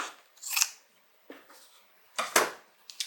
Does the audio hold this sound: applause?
no